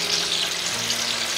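Smoked pork chops fry in a pan, a steady close sizzle and crackle that carries evenly throughout with no talking.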